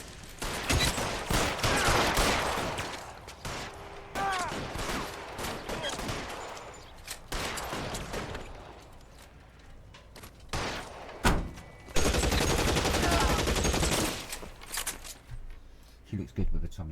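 Gunfire in the game L.A. Noire, bursts of shots and sharp impacts scattered among voices and vehicle door slams, loud in places with quieter gaps between volleys.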